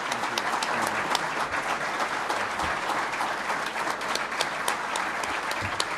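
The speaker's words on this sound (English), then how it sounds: "Let's have a round of applause for the Bennett family, please." Sustained applause from the audience at a men's basketball press conference, many hands clapping in a steady, full-room wash with occasional sharper individual claps standing out.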